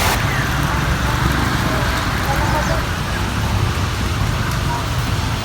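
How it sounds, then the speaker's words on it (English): The first rain in four months in the Philippines falls in a steady, dense hiss on surfaces. Road traffic sounds and faint murmuring voices mix in underneath throughout. "the rain is here and everyone is trapped"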